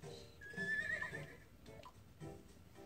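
A horse neighs in the video game Miitopia, a bright whinny rising in the middle of the clip over soft game sounds, fairly close and moderately loud.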